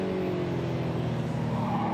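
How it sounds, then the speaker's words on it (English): Pontiac Firebird race car sliding sideways at a historic muscle car race at Hampton Downs, New Zealand: a steady, loud engine roar with tire noise, continuous throughout with no pauses. "Big sideways movement once again from the Pontiac Firebird of Ian Woodward."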